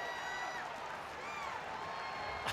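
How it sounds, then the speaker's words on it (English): A college baseball crowd at Florida versus Texas roars in a steady, dense wash of cheering and whistling that holds evenly throughout, with no distinct voices standing out. "And the crowd is reacting."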